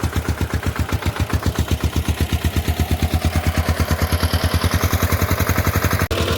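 A homemade mini tractor (sanedo) built from a motorcycle runs steadily nearby, its single engine putting out a fast, even chugging beat that holds without a break. A brief knock sounds near the end, and no one speaks.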